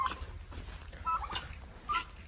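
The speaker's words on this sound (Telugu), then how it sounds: "బాతులు." Ducks at a farm house call in short, bright honks and quacks, several bursts scattered over a low, steady outdoor rumble.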